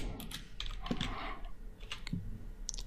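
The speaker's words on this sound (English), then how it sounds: "So that's all I'm typing in for now." Keystrokes on a computer keyboard during basic HTML coding, a steady run of close, light clicks and taps with a few louder presses scattered through, no talking.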